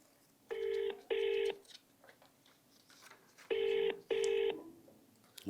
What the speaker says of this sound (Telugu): ఎంఆర్ఓ ఫోన్ బిజీ వస్తుందిగా, ఒక్క నిమిషం రింగ్ అయితే.